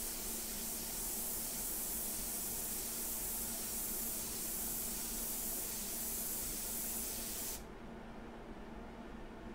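An airbrush sprays India ink onto paper in a steady, loud, continuous hiss that runs nearly unbroken, then drops in brightness near the end as the airflow eases.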